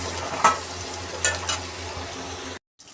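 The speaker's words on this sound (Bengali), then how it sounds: "আলু ভাজা ভাজা হয়ে গেছে, তারপর সয়াবিনটা একসাথে ভেজে নিচ্ছি।" Potatoes and soybean chunks frying together in a pan, a steady close sizzle broken by a few sharp clinks of stirring, stopping abruptly just before the end.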